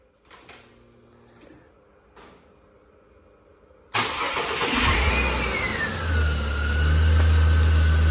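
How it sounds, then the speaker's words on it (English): Ford AU Falcon fitted with a turbo Barra engine cranks and fires after a few quiet clicks, then settles into a loud, steady idle with a faint whine rising over it, close by. "There is a running turbo Barra in my AU"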